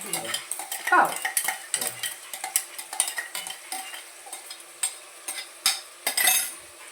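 A spoon scrapes and stirs a curry with crushed green chilli, ginger and garlic in a metal pot, making repeated close scraping strokes with a soft sizzle underneath.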